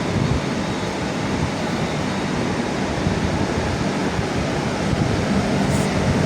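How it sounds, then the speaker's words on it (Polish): A freight train rumbles continuously at Gliwice railway station in Poland, a loud, steady broadband roar of rolling wagons with no break throughout. "Chyba tak, to pociąg towarowy."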